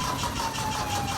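A VW buggy engine cranking over right after a carburetor swap, a steady nearby mechanical churn that continues without catching.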